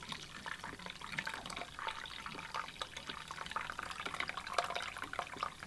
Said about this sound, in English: So now we pour out the mixture into the cheesecloth, keeping the whey